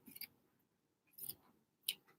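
Scissors snip through a knitted sock while shaping a small sock-penguin hat and scarf, three separate quiet cuts spaced about a second apart, close and faint with nothing else around them.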